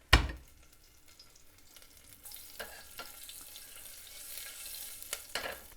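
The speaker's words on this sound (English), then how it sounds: "And just like that, I'm going to put it straight into the oil" Garlic sizzling as it hits hot oil in a pot for a vegan dahl, opening with a sharp thump and then a steady broadband crackle and hiss with scattered pops and brief stirring scrapes, close and moderately loud with no talking.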